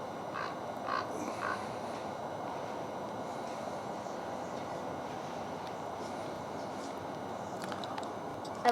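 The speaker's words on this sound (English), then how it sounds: "There's the crow." A crow caws several times early on, a few short harsh calls over a steady low rumble of background noise, fairly faint and at a distance.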